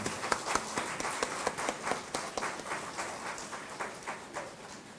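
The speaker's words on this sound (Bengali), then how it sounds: "আসুন আমরা সবাই মিলে করতালি দিয়ে তাকে অভিনন্দন জানাই।" Audience applause for a singer at a university music event: dense, steady clapping from a crowd, moderately loud and continuous throughout, with sharp individual claps standing out.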